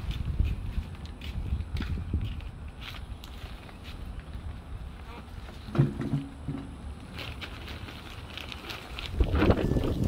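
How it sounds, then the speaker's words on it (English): Steady wind rumbles and buffets throughout, with a few faint scuffs and brief thumps underneath. "Oh, so windy."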